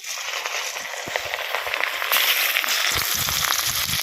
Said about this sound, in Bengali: এবার মাছগুলো ভেজে নেবো আর তেলটা প্রচুর গরম হয়ে গেছে